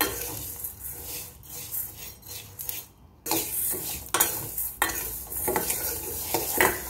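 Horsegram dry-roasting in a pan, stirred steadily with a metal utensil: scraping, rattling strokes come in repeated bursts over a faint steady sizzle, close and moderately loud.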